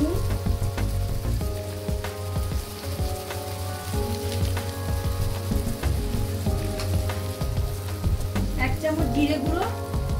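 Turmeric, salt, cumin and Kashmiri chilli powders fry in a pan for a Bengali fish head and cauliflower dish, giving a steady, moderate sizzle with light stirring clinks under continuous talk.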